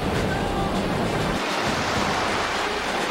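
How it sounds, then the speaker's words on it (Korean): Large ocean waves crash and surge steadily at sea during a rescue, a loud broadband roar with wind buffeting the microphone and no voices. "힘 좋은 장정이라도 오랜 시간 집채만한 파도를 견뎌내기는 쉽지 않았다"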